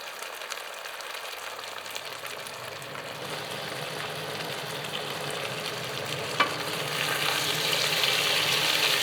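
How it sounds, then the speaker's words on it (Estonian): Penne alla vodka ingredients sizzle and fry in a pan, a steady crackling hiss that grows gradually louder, with one brief clink partway through and no talking. "Las praeb natuke,"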